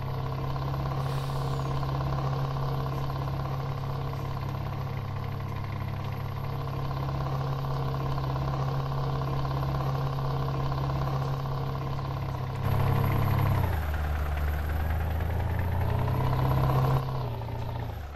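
A heavy truck engine with an open pipe exhaust rumbles steadily in Farming Simulator 19 with a deep, throaty drone, then revs and drops in pitch near the end before settling back.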